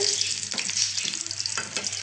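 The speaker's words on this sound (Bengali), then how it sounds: "ওর জন্য সিঙ্গারা ভাজছি আর আলু পরোটা বানাবো" Singaras (samosas) frying in hot oil: a steady, close sizzle with a couple of soft stirring strokes, no talk.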